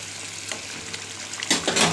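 Cut pieces of pabda fish with roe simmering in gravy in a pan, a close, soft bubbling and sizzling with a few louder spitting bursts near the end.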